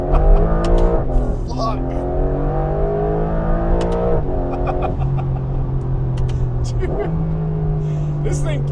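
Porsche 992 GTS fitted with a Soul Performance exhaust accelerating hard onto a highway, a loud continuous engine roar climbing through gear changes from inside the car, with a voice exclaiming over it.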